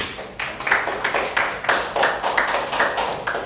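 A congregation at a Sunday service claps together, sharp distinct claps in a fairly quick, roughly regular rhythm, close and loud, repeating throughout.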